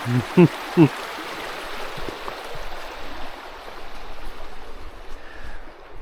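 A small burn flowing in southern Scotland, a steady, broad outdoor rush of running water heard throughout, with a couple of brief knocks near the start.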